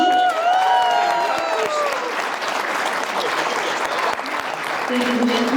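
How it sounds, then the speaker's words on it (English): Wedding guests applaud the newly married Mr. and Mrs. McGee at the end of the speeches, dense steady clapping filling the room, with a voice speaking over it at the start and a brief sung or spoken tone near the end. "Another round of applause for the new Mr."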